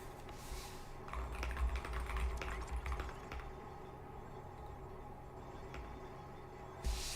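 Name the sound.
typing on a SteelSeries computer keyboard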